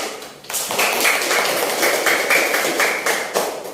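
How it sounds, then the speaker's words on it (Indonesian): A primary-school class claps together in a steady burst of many hands, fairly close and loud, lasting several seconds with a rhythmic, slightly uneven patter and no talking over it. "Kelompok 1, tepuk tangan"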